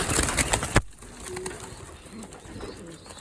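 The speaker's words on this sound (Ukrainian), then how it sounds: "І ми їх сьогодні тут половимо цих голубів, які хочуть літати." Young racing pigeons coo softly in low, scattered phrases after a brief burst of loud rustling and flapping at the start, close by in a loft.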